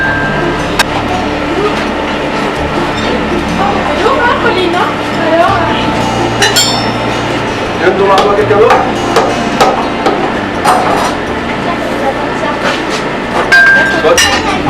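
Blacksmith hammering iron in a forge, heard as sharp metallic clinks and strikes scattered over busy background noise while people talk throughout.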